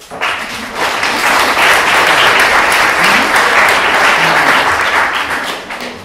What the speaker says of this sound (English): But before a round of applause.